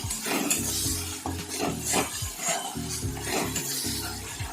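Spice paste with ginger and garlic paste, salt, turmeric and chili powder fried in a pan, heard as a low sizzle under repeated close scraping and clinking stirs of a utensil against the pan.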